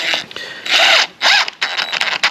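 A power drill drives screws into wooden boat stringers, with several short bursts of whirring spin and pauses between them, loud and close.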